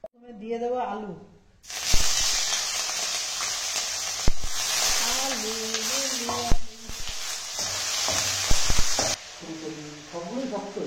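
Diced potatoes dropped into hot oil in a pan, a sudden loud hissing sizzle that continues steadily with a few clattering knocks, while people talk briefly before and after.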